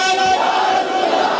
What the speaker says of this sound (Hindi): वो दोनों हाथों को उठाकर बुलंद आवाज से कहेगा नारे तकबीर